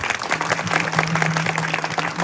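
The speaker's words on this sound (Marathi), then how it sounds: "आणि आजचं कीर्तन खरंच आवड असलं तरच टाळ्या वाजवा." An audience claps steadily and densely at a kirtan in Chitra Vadgaon, a sustained wash of many hands at close range with a faint steady tone underneath.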